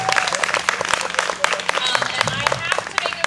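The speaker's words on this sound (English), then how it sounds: "So let's give a round of applause." Audience applause at a live band concert, a crowd clapping steadily and fairly loudly close by, with some voices and cheering mixed into the clapping.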